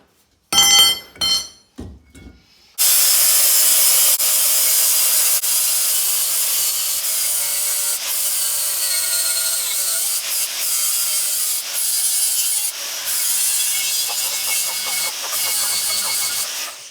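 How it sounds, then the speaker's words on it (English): Abrasive rubbing scours corrosion from the brake discs of a 2010 Ford Transit van, a loud, steady grinding scrape that runs continuously for most of the span after a few brief knocks at the start. "So now we don't need new rotors. Now we can just clean all these up."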